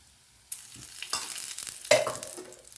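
Veg cutlet sizzling in oil and ghee on a pan, a steady fry that swells after a quiet start, with a louder burst of spattering midway; close and fairly loud, no voices.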